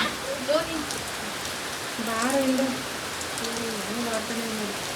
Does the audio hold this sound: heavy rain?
yes